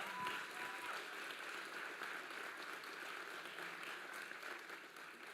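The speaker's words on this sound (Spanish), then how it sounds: "Alguien dele un aplauso al Señor." Applause from a church congregation at a religious congress, a soft, even wash of many hands clapping that stays fairly faint and distant throughout, with no voices over it.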